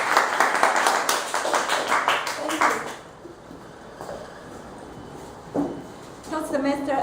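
Audience clapping to welcome Susan at a Toastmasters evening, a brief burst of hand claps for about three seconds that fades out, followed by quiet room noise and a few faint sounds.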